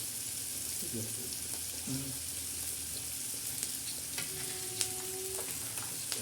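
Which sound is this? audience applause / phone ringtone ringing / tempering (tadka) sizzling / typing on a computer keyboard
tempering (tadka) sizzling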